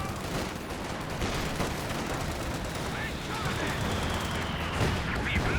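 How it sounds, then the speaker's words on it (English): Anti-tank strafing run in Company of Heroes 2 on the La Gleize map: sustained rattling gunfire and rumbling impacts over a busy battle din, fairly distant and steady throughout. "nice anti-tank strafe"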